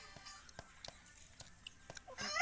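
Country chickens give soft scattered clucks and short calls at close range, uneven and quiet, ending in a louder burst.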